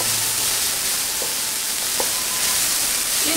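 Carrots sizzle in a hot pan of vegetables, a steady broadband frying hiss throughout with a few faint clinks, fairly loud and close, no voices.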